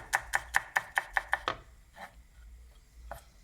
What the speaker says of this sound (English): you slice your garlic into slices, like so